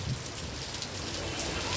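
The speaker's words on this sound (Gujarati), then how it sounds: "વરસાદ ચાલુ થયો છે" Steady rain falls across a wide area, a dense even hiss with occasional louder drops, no voices present.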